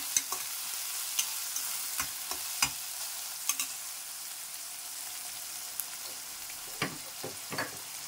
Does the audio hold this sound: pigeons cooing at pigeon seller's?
no